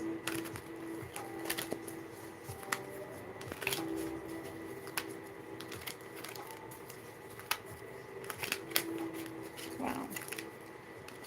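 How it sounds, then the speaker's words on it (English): Tarot cards are shuffled by hand in a quiet room, giving repeated soft riffling and patting bursts with brief pauses between them, and no talking is heard. "we're gonna shuffle a few times, and then we're gonna pull some tarot for you"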